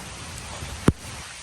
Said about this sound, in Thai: ฝนเนี่ยตกทั้งวันเลยนะ